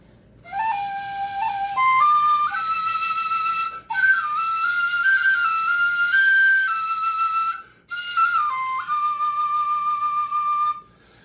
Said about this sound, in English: And you play this one sideways. It's a fife.